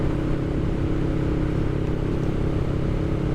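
A 2023 Honda Rebel 500 cruiser motorcycle riding on the road at highway speed, a loud, steady, continuous engine drone mixed with wind noise close by, with no talking.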